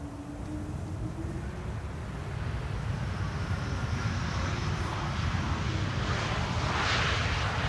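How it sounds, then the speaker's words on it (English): An Embraer E195-E2 jet arriving from Krakow approaches Schiphol's Polderbaan runway 18R, its engines a steady, swelling roar with a whining tone that grows louder as the jet closes in. "E2 Embraer 195 over here, flight 1322, arriving from Krakow"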